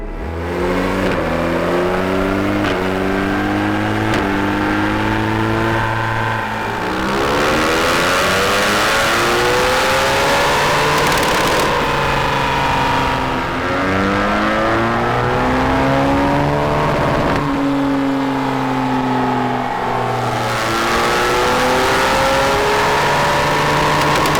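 A BMW R1200 GS Adventure motorcycle, a 2017–2018 Euro 4 model with custom software and knobbly tyres, revs on a dyno, its engine climbing through repeated loud sweeping runs with short drops between, alone without talk.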